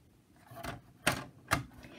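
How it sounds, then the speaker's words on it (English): A blade cuts a paper card along a straight edge in a few short, close, crisp strokes, with quiet pauses between them. "we're going to take our straight edge, and we're going to cut that off"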